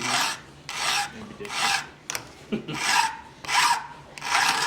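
Steady rhythmic rasping of a file on a saw chain, six even strokes close up with short pauses between them.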